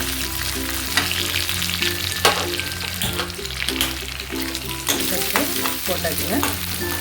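Cashew nuts frying in oil for a curd rice tempering, a loud continuous close sizzle with a spoon stirring and occasional clacks against the pan, no voices.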